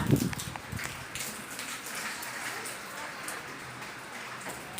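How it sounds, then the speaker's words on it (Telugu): Heavy rain pours down in a continuous hiss, with a few louder drops at the start and no voices. "వెదర్ అసలు వర్షం ఫుల్ పడుతుంది"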